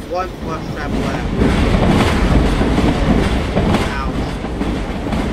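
Trains rumble and clatter continuously through a video game, with a rhythmic rail clack over a low roar and a voice speaking briefly over the noise.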